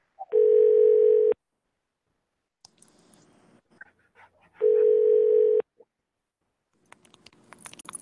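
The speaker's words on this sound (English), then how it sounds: "I'm dialing in Mr. Morgenthau right now." Steady telephone dial tone sounding twice in long, even bursts, separated by faint clicks and small handling noises while dialing into a school council meeting call.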